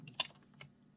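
A few quick keystrokes on a computer keyboard, one sharper clack followed by lighter taps, close and quiet.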